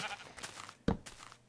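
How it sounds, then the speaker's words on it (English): A sheep in a video game gives one short, clear bleat partway through, standing out above a faint background. "You want to live with me, sheep?"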